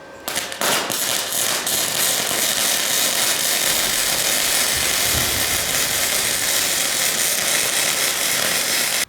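A dual purpose welder laying a bead on a 14 gauge steel frame, a loud continuous crackling hiss running almost the whole time after a brief start, close and steady with no talking.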